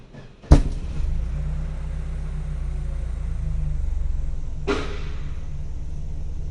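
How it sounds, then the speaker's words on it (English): A Saab 9-3 engine idles with a low, steady rumble, broken by two sharp exhaust bangs, one near the start and another a few seconds later. "There is a bang in the exhaust pipe and some other noise makes itself felt."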